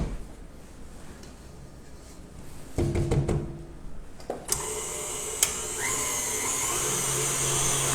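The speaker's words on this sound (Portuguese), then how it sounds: "Vou ligar a batedeira numa velocidade média." An electric stand mixer starts up at medium speed while buttercream for a healthy cake is prepared. A few clunks come first, then a steady mid-loud motor whir that holds to the end.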